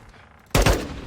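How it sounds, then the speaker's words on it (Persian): Gunfire in the Call of Duty Modern Warfare 2 video game, a sudden loud burst of shots that cuts in midway after a quiet stretch and trails off in a rumbling decay. "یارو از این زیر داشت شلیک میکرد"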